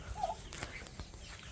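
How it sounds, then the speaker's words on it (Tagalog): A short, faint chicken call rises once over quiet outdoor background, a single clucking burst, followed by soft ambient noise. "Ito na ang mga manok."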